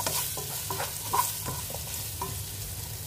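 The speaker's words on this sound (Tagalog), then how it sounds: "Fry muna natin, mga karosas." Spices fry in a pan for a lamb and vegetable dish, with a quiet sizzle under a few distinct clinks and scrapes of a utensil stirring against the pan, close and intermittent.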